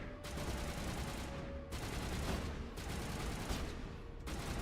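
Rapid sustained gunfire in the video game Mass Effect comes in dense automatic bursts, broken by brief gaps, fairly faint overall with no talk.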